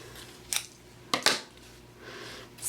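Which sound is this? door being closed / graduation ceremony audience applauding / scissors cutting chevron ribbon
scissors cutting chevron ribbon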